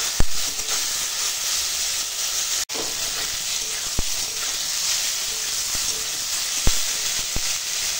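Spices with salt, turmeric and ginger-cumin paste sizzle steadily in a hot pan alongside vegetables, a continuous close hiss broken by a few sharp clicks of a spoon against the pan.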